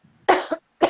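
Two sharp coughs from one person, the first harsh and drawn out with a brief second burst, then another short cough after a pause, loud and close with no talk over them.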